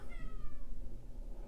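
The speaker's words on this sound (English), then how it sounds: "the cat is meowing because I just put her out and she's not happy about it" A displeased cat meows close by, a single drawn-out complaint that falls in pitch, heard alone with no talking.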